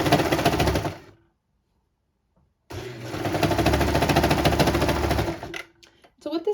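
A serger sewing machine stitching elastic into gathered fabric runs in a loud, steady mechanical whir, stops for over a second, then runs again in a longer burst before falling quiet.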